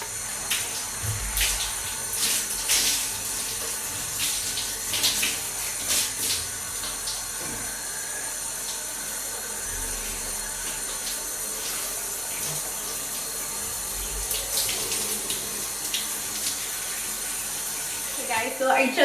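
Shower water runs steadily while a hair mask is rinsed out, a continuous hissing splash broken by brief louder spatters and knocks.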